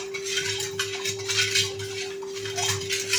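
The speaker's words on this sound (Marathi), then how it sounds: "आता आपण हे मिक्स करून घेऊया।" Sugar is stirred into lemon sherbet, a utensil scraping and clinking against the vessel in a continuous close mixing sound, with a steady background hum and no talking.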